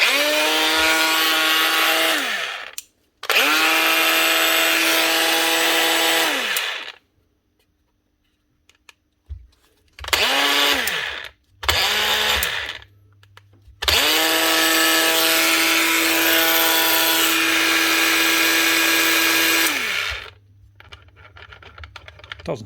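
A faulty Bosch GWS 18V-10 PSC cordless grinder whose motor spins while the blade stays still whines up loud several times, with a long run and short bursts separated by silences, then a faint hum at the end.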